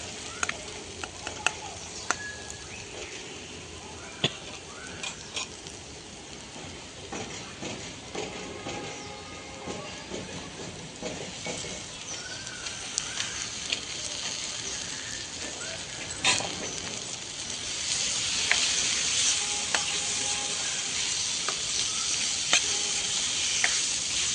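Tuvar totha, pigeon peas in the Mehsana style, are tipped into a hot pan of sizzling spices and stirred, with steady frying hiss and scattered spoon clinks and scrapes that build louder toward the end.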